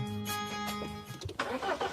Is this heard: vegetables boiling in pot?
no